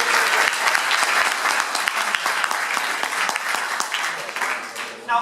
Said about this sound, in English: I think you all deserve a huge round of applause for that.